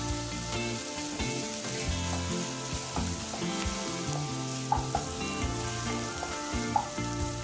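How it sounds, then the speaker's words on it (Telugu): Ginger garlic paste with a pinch of turmeric fries in a pan for mutton keema curry, giving a continuous, even sizzle with occasional stirring scrapes and small pops, close by and without talk. "బాగా వేపుకోవాలి. పచ్చివాసన పోయేలా వేపుకోవాలి."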